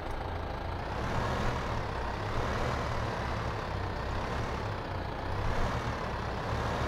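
A farm vehicle engine droning steadily in Landwirtschafts-Simulator 15, a constant low rumble with no breaks while driving along.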